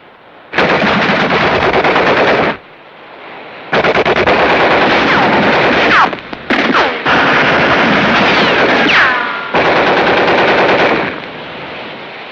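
Sustained machine-gun bursts in a 1952 Second World War film, loud and dense, in long stretches broken by brief pauses, with no voices over them.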